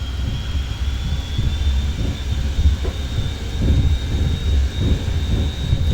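Boeing 737-400 jet engines spooling to takeoff thrust in a flight simulator, a steady deep roar with a thin high whine, continuous and fairly loud.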